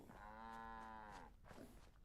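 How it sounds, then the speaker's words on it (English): A cow in the video game Fallout London lets out one long, loud moo, followed by a shorter, quieter grunt. "Cow."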